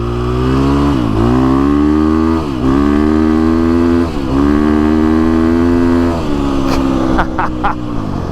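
A KTM 350SX-F dirt bike revs loudly on desert trails, its four-stroke engine note rising and falling steadily through repeated throttle pulls and shifts, close and continuous throughout.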